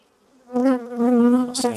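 Honey bees from an angry hive buzz close by in a sharp, steady drone after a brief quiet start, loud and near with no talking.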